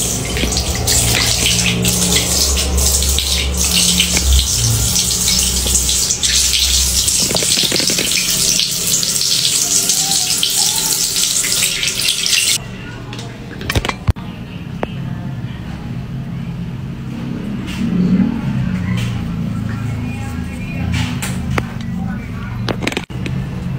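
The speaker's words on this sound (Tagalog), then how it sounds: "I'll be washing my face first." Water runs steadily from a tap while a face is washed, a broad continuous splashing hiss that thins out midway, with someone talking over it.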